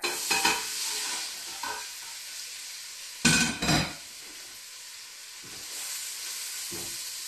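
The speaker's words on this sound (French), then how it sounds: "oignons, carottes, céleri, on va venir sacrer ça dans notre casserole ici" Onions, carrots and celery hitting a hot saucepan give a steady frying sizzle with hiss and steam, broken by a couple of loud stirring scrapes and pan clatters midway.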